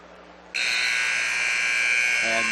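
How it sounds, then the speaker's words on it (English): A loud electronic buzzer ends a wrestling period at the 2013 CIF North Coast boys championships, cutting in sharply after a quiet moment and holding one continuous harsh tone, with a voice starting underneath near the end. "And there's the buzzer."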